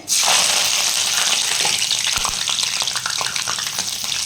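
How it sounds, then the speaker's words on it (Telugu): Green chillies and curry leaves hitting hot oil, a loud, close crackling sizzle that bursts in at once and keeps spitting steadily, with no voices. "ఇది ఇప్పుడు ఆయిల్ వీటైందండి నేను ఆయిల్ పెట్టుకున్నాను మరో పక్కనే పచ్చిమిర్చి కరివేపాకు వేసుకోవాలి"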